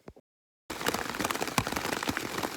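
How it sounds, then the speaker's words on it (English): Rain patters densely on a tarp shelter along a mountain hiking trail, a steady close crackle of drops after a brief silence. "got caught in the rain"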